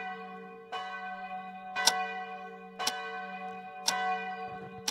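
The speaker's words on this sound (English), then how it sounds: "Pretty simple, church bells." Church bells ring in slow, evenly spaced strikes, each tone sustaining and overlapping the next, with a low steady hum beneath.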